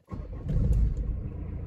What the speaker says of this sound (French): c'est le moment pour nous de démarrer le diesel